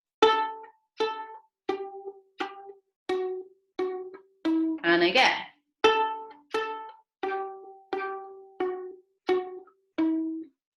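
About a dozen short violin notes played at an even, steady pace, each ringing briefly, with a quick spoken phrase breaking in midway.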